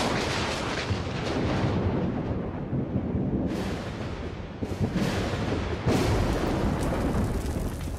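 Thunder from a thunderstorm over the Australian bush rolls as a loud, continuous rumbling roar, with a few sharper cracks and surges breaking through the steady boom.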